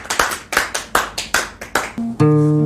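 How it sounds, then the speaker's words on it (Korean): A church congregation bursts into several rounds of clapping in regular surges, about one burst every half second, fairly loud and close, then it gives way to a sustained organ or keyboard chord. "우리에게 말씀하신 그 하나님께 감사의 박수를 드리십시다."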